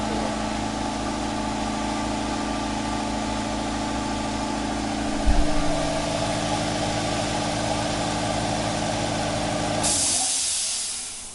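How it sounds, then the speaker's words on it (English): An air compressor in a guitar workshop runs with a steady mechanical drone, a thump partway through, then a hiss of released air as it winds down near the end. "so much for that compressor. Hang on, I'll go shut it off"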